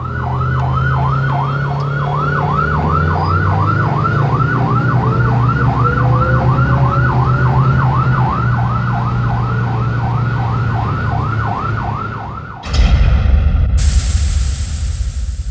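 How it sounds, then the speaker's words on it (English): An airport fire engine's American-style warbler siren sweeps up and down in a steady, rapid rhythm over a low diesel engine rumble, loud and close, then cuts off abruptly into a harsher, louder tone near the end. "The Siren is the more American-style warbler"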